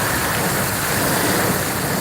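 Heavy rain pours down steadily during a thunderstorm in Virginia south of Richmond, a loud, dense, unbroken hiss with no pauses and no voices.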